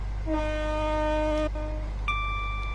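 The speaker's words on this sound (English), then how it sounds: "It just basically means sound your horn like this." A train horn in the Train Sim World 4 simulator on a Southeastern high-speed service sounds loud and close: a long low-tone blast, a short repeat, then a higher-pitched toot, over a steady engine rumble.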